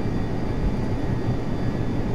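A jet aircraft engine in Flight Simulator X runs at full throttle as takeoff begins, giving a steady, loud, broadband roar with a low rumble that holds evenly throughout, no voices over it.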